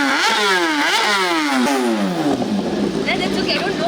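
Kawasaki motorcycle engine revving hard at a college ethnic day event, rising and falling in quick repeated bursts before settling into rough noise, loud and close with crowd voices around it.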